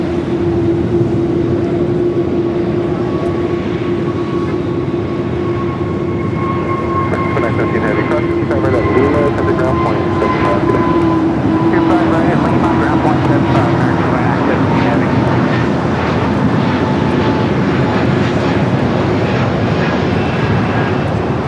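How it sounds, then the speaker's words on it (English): An 18-year-old Cathay Pacific Boeing 777-300ER from Hong Kong lands at LAX, a loud continuous jet roar with a whining tone that slowly drops in pitch, with talk heard over it. "Cathay Pacific, flight 884, coming in from Hong Kong on an 18-year-old 777 at 300ER."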